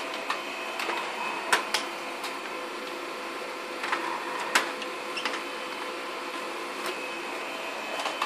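Printer running steadily while presort standard envelopes are fed through it, a continuous mechanical whir punctuated by sharp clicks and clacks as each envelope feeds, moderately loud and close with no talking.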